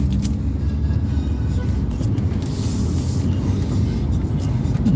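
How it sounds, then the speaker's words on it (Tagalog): A motorcycle taxi tricycle idles and rumbles in a Philippine residential compound street, a continuous low engine drone close by with light intermittent background noise. "Tricycle."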